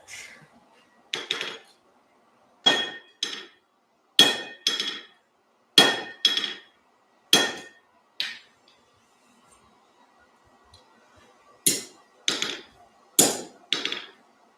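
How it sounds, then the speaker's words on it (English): Heavy metallic blows of a sledgehammer flattening metal tongs strike in a steady series, about a dozen sharp ringing impacts with short pauses between groups, close and loud. "But not with this hammer, with the sledge."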